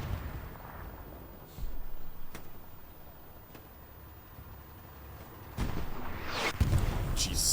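Tank cannon fire in Hell Let Loose on the Omaha map: a few heavy booms and sharp blasts ring out over a steady rumble of engine and battlefield noise, with two louder shots near the end.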